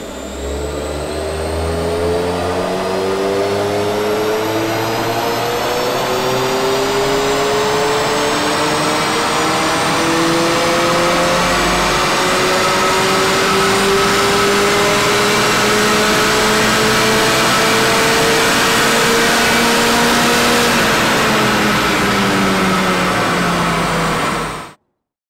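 A Mazda MX-5 NC engine revs up steadily during a full-throttle dyno pull on the stock OEM air filter, its pitch climbing over about twenty seconds, loud and close with no talking, then cutting off abruptly.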